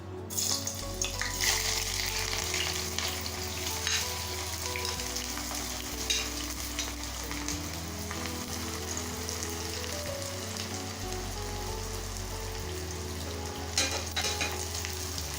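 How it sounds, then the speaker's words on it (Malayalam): Sliced onions fry in hot oil for a mughlai dum chicken, a continuous bright sizzle with crackling pops and occasional stirring, close and steady over a low background hum. "ഇനി നമുക്ക് സവാള എണ്ണ ഇതിലിട്ടിട്ട് ഫ്രൈ ചെയ്തെടുക്കാം."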